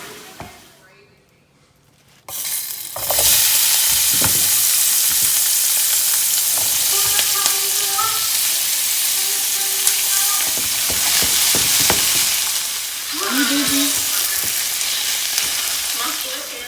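Sausage patties fry in oil in a pan with a loud, steady sizzle that starts after a quiet moment, punctuated by scrapes and clicks from a utensil stirring and flipping them.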